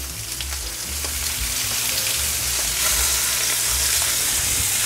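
Butter sizzling loudly in a hot pan beside a searing rib eye steak, a dense continuous hiss and crackle close up that swells slightly as it goes, with no voices.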